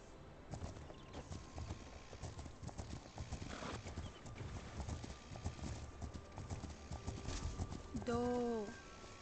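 Video game horse hooves clip-clop in a steady, repeated rhythm close by, with a brief whinny near the end and occasional voices underneath.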